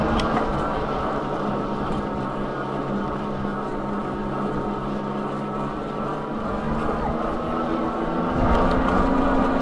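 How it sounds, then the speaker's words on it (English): A Quietkat Ranger electric fat-tire bike riding along, its motor whine blending with a steady broadband roar of fat tire noise, continuous and fairly loud, without speech. "Motor's a little bit louder when I'm pedaling, I think, but it's also, there's a lot of tire noise given how fat these are."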